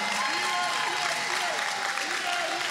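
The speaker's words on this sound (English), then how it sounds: "Round of applause for Rishana and Team Grenada." Crowd applause at the final day of a Caribbean youth netball tournament, dense continuous clapping with cheering voices and a whistling or singing tone riding over it.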